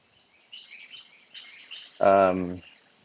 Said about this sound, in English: you can probably hear the wind and very few birds